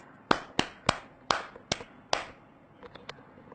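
Schoolchildren in an 8th-grade English class give a short round of applause: about six sharp, separate claps spaced evenly, then a few fainter taps, fairly close and quiet with no talking.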